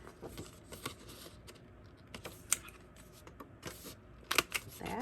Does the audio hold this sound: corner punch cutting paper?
yes